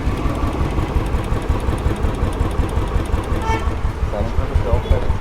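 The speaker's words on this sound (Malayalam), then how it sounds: "അതായത് എൻജിൻ്റെ എന്തെങ്കിലും സൗണ്ട് ഉണ്ടോ നോക്കാം." A restored Royal Enfield Bullet 350 BS3 with a stock silencer runs close by with a low, rapid thumping beat that stays steady throughout, with a voice faintly present beneath it.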